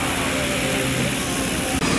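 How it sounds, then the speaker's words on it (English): Propeller plane carrying parachute jumpers passes by at the Warbirds Over Monroe 2025 airshow, a steady loud engine drone filling the whole moment with a slight tonal hum, crowd and wind noise mixed in. "Hold on just a second as the plane that's going to transport our jumpers comes"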